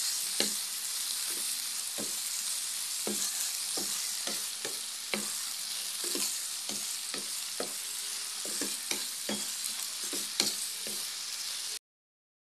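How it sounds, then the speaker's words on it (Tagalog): Dried shrimp stirred in a pan with oyster sauce: a continuous loud sizzle with regular scraping strokes of a spatula against the pan throughout. "Lagay po natin yung hibe. Haluin lang po natin ulit."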